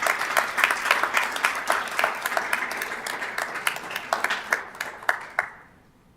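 Audience applause for a National Merit student at a school district governing board meeting, steady moderate clapping from a seated crowd lasting about five seconds before fading quickly to quiet.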